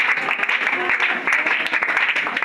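A congregation applauding during a French-language church prayer service, steady dense clapping from many hands throughout, fairly loud and continuous with no break.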